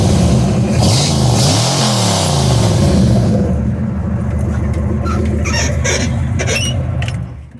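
Tuned car engine revving hard and loud up close, a sustained roar with rising and falling pitch that settles into a steady rumble before easing off.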